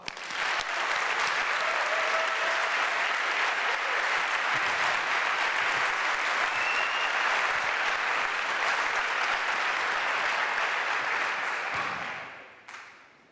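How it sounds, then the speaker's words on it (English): An audience at the DevOps Barcelona conference gives sustained, even applause for about twelve seconds before it quickly dies away. "I want everybody to give a huge round of applause to DevOps Barcelona staff and organization crew."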